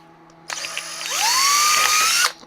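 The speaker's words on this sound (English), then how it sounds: "So here, I'll just drill some holes in it." A handheld power drill bores a pilot hole into aluminum, its motor whining up to a steady high pitch for nearly two seconds before stopping, loud and close with no talk.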